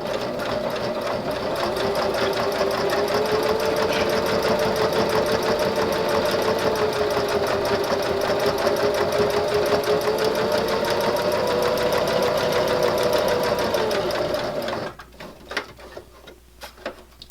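Sewing machine stitching through thick layers of fabric on a silverware pocket, a loud close continuous whir lasting about fifteen seconds before stopping, followed by faint handling.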